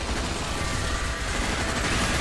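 Rifle fire in Earth Defense Force 5, loud and dense, a continuous barrage of rapid shots with no break and no talking.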